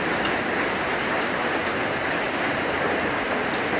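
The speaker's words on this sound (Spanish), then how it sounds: "el ruido que escuchan de fondo es porque hay una lluvia bastante" Heavy, steady downpour of rain at an old house with former horse stables, a dense continuous hiss and patter that stays loud and unbroken throughout with no voices.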